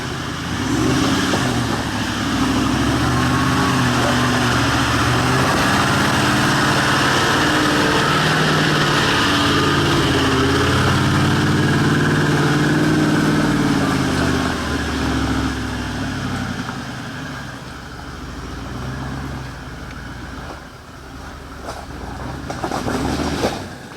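A V8 off-road truck with twin lockers and 33-inch tyres idles up a slippery slope in first gear around 2,000 rpm, its engine droning steadily and loudly close by before easing slightly near the end.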